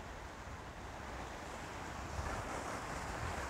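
Gusty wind rushes and buffets outdoors among ferns, a continuous fairly faint roar that swells slightly toward the end, with no talking.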